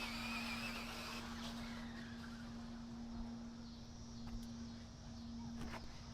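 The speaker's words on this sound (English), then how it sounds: "Some guy going crazy with a remote control car." A remote control car whines along at a distance, a steady high-pitched motor hum with faint tire sounds, quiet against a constant background drone.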